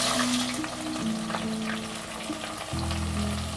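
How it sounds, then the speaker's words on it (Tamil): Onions sauté in hot oil with tomatoes and curry leaves for a Tamil fish gravy, sizzling steadily up close with a low hum underneath and a brief louder surge near the end. "இப்போ வெங்காயம் நல்லா வதங்கட்டும்"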